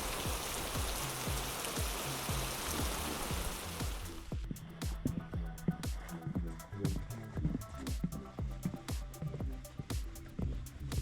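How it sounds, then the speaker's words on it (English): Rain patters on a tent while wild camping, a dense steady hiss at first that eases into scattered, irregular drops tapping close by. "it's nice to see that the rain has eased up"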